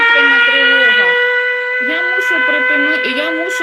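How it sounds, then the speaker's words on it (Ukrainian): A wailing air raid siren sounds loud and steady with layered harmonic tones, its pitch sliding up and down in repeated swells as the alarm rises and falls for several seconds in Ukraine. "Повітряна тривога"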